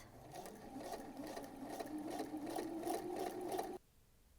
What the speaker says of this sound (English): It definitely helps it run a lot smoother as it's going through my machine.